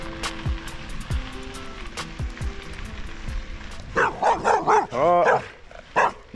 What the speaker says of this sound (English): my first barking dog of the trip